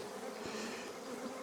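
Honey bees buzz steadily around an open beehive during a queen check, a dense, continuous drone that holds at an even loudness throughout with no voices.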